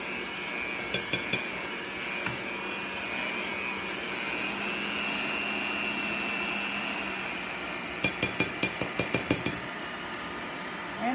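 An electric mixer beats lemon yogurt pound cake batter in a bowl. Its loud, steady motor whir drones throughout, with a quick run of clattering knocks near the end.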